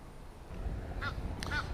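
Two short nasal honks from geese close by break through outdoor background rumble near the end, at a city fishing spot.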